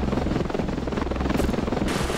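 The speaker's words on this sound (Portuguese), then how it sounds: "Entrar aqui no helicóptero." Helicopter in the video game Ravenfield, a close, loud and continuous rotor thump with a pulsing beat and rushing engine noise, heard alone without talk.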